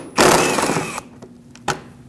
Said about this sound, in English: remove the 10mm headed screws that hold this shield onto the front bumper cover all across the front